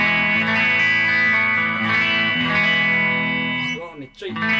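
A modified Gibson Explorer electric guitar, a Vintage Maniacs custom model, rings out with distortion in a thick sustained chord that fills the mix, then fades and breaks off near the end.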